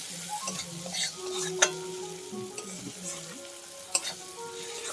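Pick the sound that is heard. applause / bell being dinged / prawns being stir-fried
prawns being stir-fried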